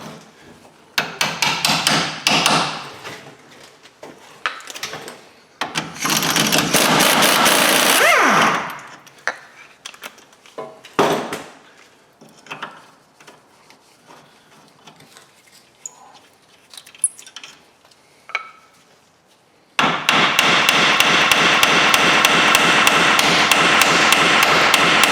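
A hammer strikes metal on a Ford Ranger steering knuckle near the lower ball joint, in loud rapid bursts of repeated blows separated by quieter pauses, with a long final run of steady pounding.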